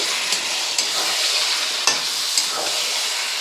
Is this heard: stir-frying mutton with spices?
yes